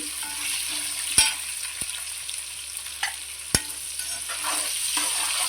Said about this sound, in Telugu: ఉల్లిపాయలు కూడా బాగా ఏగిపోవాలి